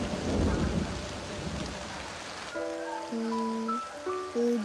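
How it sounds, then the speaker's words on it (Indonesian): Heavy rain hisses steadily at the start, with low rumbling that fits distant thunder, then fades under a tonal, musical-sounding passage in the later seconds. "Hujan Kyo."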